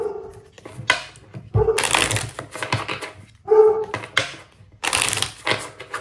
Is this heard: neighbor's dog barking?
yes